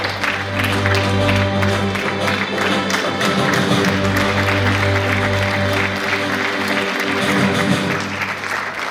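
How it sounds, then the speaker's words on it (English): A crowd at a school investiture ceremony applauds the newly elected student leaders with sustained, dense clapping and some crowd noise over a low, steady hum. "Let's give them a well-deserved round of applause as they accept their badges and responsibilities."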